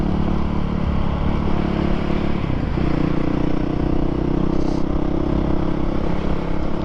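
A freshly dyno-tuned motorcycle runs with a loud, steady exhaust drone that dips briefly in pitch around the middle, heard continuously while riding, without talk.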